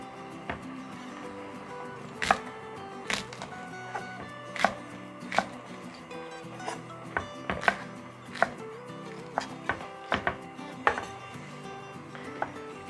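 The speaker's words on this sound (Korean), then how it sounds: "깻잎 요거 이제 위에 고명으로 올릴 것만 조금 잘라주도록 할게요." A knife cuts perilla leaves on a board for a garnish on aged-kimchi pork bone stew, making irregular crisp taps that come in loose clusters and pauses, close and steady over a quiet kitchen background.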